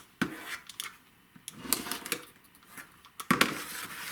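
Rotary or straight cutter slicing through cotton quilt block fabric on a cutting mat, giving a few sharp close clicks and scrapes at irregular intervals with quiet gaps between.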